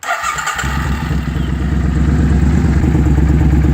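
A Suzuki VS800 Intruder V-twin idles close by during carburetor synchronization, a loud, even, rhythmic thumping that settles in after a brief revving start and runs steadily throughout.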